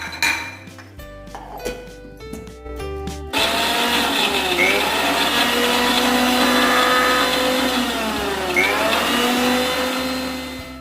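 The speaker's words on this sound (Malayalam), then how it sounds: "ആദ്യം കുറച്ച് ഇഞ്ചി മിക്സിയിലിട്ട് നന്നായി അരച്ചെടുക്കണം." A mixer grinder grinding ginger whirs loudly and continuously, its motor pitch wavering as it grinds, preceded by a few clinks and knocks of handling.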